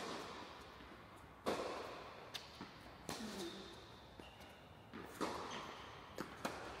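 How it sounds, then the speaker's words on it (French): Tennis second serve followed by a rally on a court, with sharp, distinct ball strikes and bounces at irregular intervals over a low ambient background, moderately close and with no talking. "C'est moi qui suis au service, c'est une deuxième balle."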